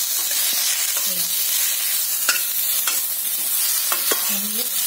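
Cluster beans (guar) roasting in a little oil in a pan, with a steady close sizzle broken by intermittent spoon stirring and scraping, and no talking.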